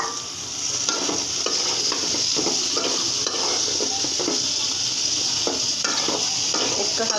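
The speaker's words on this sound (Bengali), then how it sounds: "আলু কাটাগুলো দিয়ে দিলাম।" Chopped potatoes and Malabar spinach stems fry in a pan, a close continuous sizzle broken by repeated scraping stirs and light clinks of the utensil against the pan.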